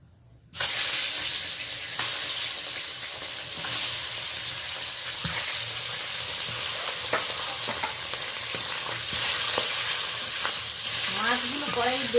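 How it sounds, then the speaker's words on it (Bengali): Tengra fish sizzle and spit loudly in hot oil in a pan, a steady close frying hiss with sharp pops and crackles, and no voices. "ট্যাংরা মাছ বেশ ফাটতে থাকে বন্ধুরা"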